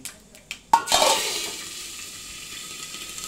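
Cumin, asafoetida and curry leaves dropped into hot oil for a khichdi: a sharp clatter, then a sudden burst of sizzle that fades quickly to a softer hiss.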